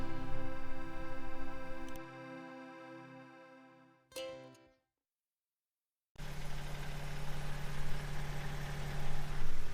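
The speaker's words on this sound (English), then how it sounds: "Apologize for the noise. We're running the diesel a little bit" A steady boat diesel engine drones with a low, even hum, cuts out into near silence for a couple of seconds, then starts up again loudly.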